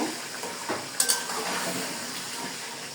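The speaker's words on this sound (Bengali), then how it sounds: "এটা আমি পেঁয়াজ বাটা দিয়ে দিলাম। এখন আমি ভালো করে নেব।" Onion paste is stirred and fried in a pan for chicken polao, giving a steady soft sizzle with scraping stir strokes and a couple of sharp clinks near the middle, and no talk.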